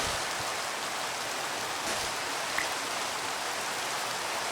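Steady rain falls in the video game Minecraft, a dense, even hiss of broadband noise that holds at one loudness throughout, with no pattering variation and no voices.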